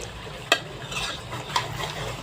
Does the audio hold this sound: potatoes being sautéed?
yes